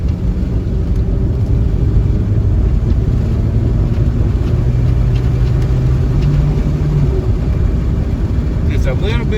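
A car on a road test after a Sea Foam cleaner treatment, its engine droning loudly and steadily as it pulls up to about 4,000 RPM, mixed with heavy wind rumble and road noise from inside the cabin.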